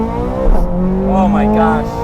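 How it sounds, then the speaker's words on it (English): A Ferrari 430 Scuderia pulls hard, its engine note climbing loud and close with a rising howl, while a voice speaks over it. "Alright, so we're going to accelerate hard here."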